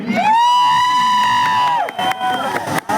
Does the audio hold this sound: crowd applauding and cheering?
yes